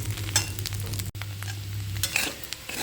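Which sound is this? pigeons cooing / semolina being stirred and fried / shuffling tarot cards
semolina being stirred and fried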